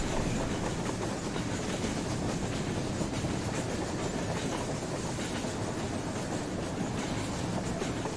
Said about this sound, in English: So we're now going on a nice train ride.